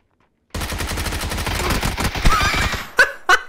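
Rapid PP-Bizon submachine gun fire in the video game PUBG, a fast continuous burst that starts abruptly and runs for a few seconds, followed by two separate louder impacts.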